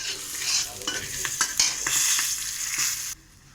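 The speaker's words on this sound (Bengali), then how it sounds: "কাঁচা লঙ্কা দিয়ে এটাকে ভেজে নেব" Green chilies, bay leaves and five-spice seeds fry in hot oil in a wok, a steady close sizzle with scraping stirring strokes throughout, cutting off abruptly near the end.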